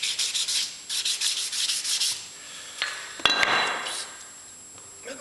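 Steady rasping strokes of a sanding block rubbing back and forth on a lathe casting, close and continuous, followed by a short clatter and a few slower scrapes.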